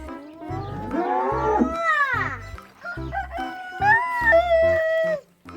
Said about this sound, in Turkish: Arkadan tavuk da ötüyor. Horoz olmasın ha.